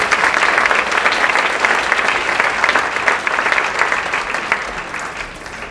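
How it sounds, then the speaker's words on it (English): Steady, loud applause from a school audience at a senior awards night, many hands clapping in a dense continuous roar that eases slightly near the end. "please give a round of applause for Vladimir."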